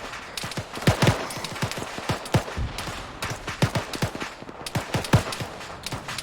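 Gunfire in Arma 3 during a multiplayer session: repeated sharp shots and short bursts crack out in irregular clusters, some near and loud, others quieter and farther off, with no talk during the exchange.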